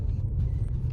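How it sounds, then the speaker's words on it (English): A 2020 Mazda 3 driving on the road gives a steady, loud low rumble of engine and tyre noise from inside the cabin, continuous for the whole second with no talking. "now that we're in the car driving"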